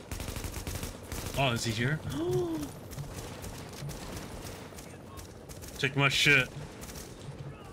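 Automated sentry gun fire in the video game Tom Clancy's The Division, heard as rapid crackling bursts running steadily beneath people talking, with louder moments where the voices rise.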